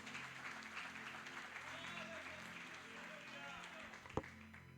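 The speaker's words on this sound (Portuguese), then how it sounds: "dê uma linda salva de palmas para esse Senhor, esse Deus maravilhoso, poderoso" A church congregation applauds during a worship service, a steady faint wash of clapping that continues throughout under a low voice, with one sharp knock near the end.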